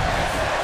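Arena crowd in WWE 2K20 cheering steadily, a loud, even roar of many voices through a short moment of a wrestling match.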